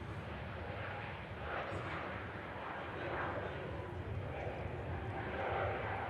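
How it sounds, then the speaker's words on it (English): Lufthansa Airbus A320neo taking off at Manchester Airport, a steady broadband roar of jet engines that swells slightly as the aircraft rolls, heard from a distance with faint background noise. "Lufthansa rolling. Airbus A320 Neo."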